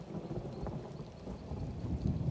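Steady rain falls with low rumbling thunder in a fantasy role-playing game set in a town, a continuous wash of noise with no voices.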